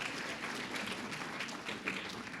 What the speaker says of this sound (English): we need to give her a round of applause for everything